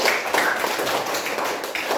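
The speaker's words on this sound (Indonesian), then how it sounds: "terima kasih tepuk tangan buat Eka dulu" A training class in Indonesia claps for a participant, brisk, dense, close-up clapping that holds steady for the full two seconds with no talk over it.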